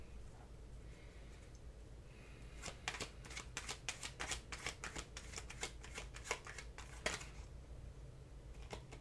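Oracle cards being shuffled by hand, a quick run of soft riffling flicks and slaps lasting several seconds, close and fairly quiet, with no talking.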